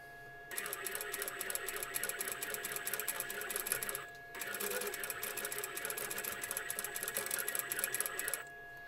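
A sewing machine stitches the curves of a small rag doll's dress, running in two steady, close whirring bursts separated by a brief pause, with a voice talking over it.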